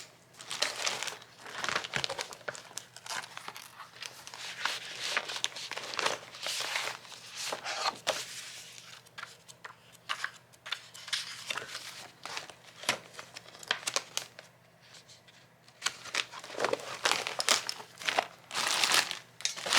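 Black and white paper is handled and crinkled while making journal tags, with soft irregular rustles and crunches close by throughout.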